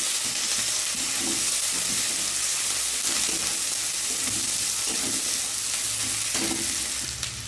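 Ground spices, including coriander, cumin, turmeric and Kashmiri chilli, sautéed in a pan for Bengali dhokar dalna: a loud, continuous sizzle and hiss with repeated scraping stirs at a fairly regular rhythm.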